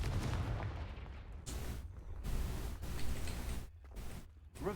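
Blast spell fired in the video game Hogwarts Legacy, loud booming bursts that roll into rumbling decays, several heavy hits across a few seconds with no talking.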